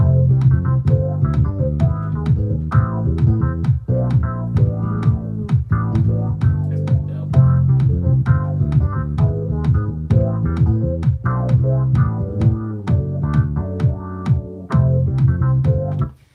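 A thick, busy bass line plays continuously with percussive attacks, sounding doubled and layered, loud and close throughout.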